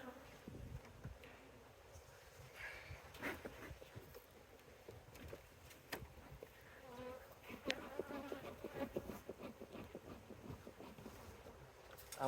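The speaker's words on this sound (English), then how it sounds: "But there is a lot of bees in this one." Honey bees buzz faintly around a crowded hive during an inspection after a possible swarm, a quiet continuous hum with occasional louder passes and light rustling.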